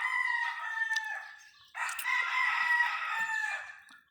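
Roosters crowing loudly and close by at a chicken farm, two long overlapping crows one after the other with some clucking mixed in, no talk over them.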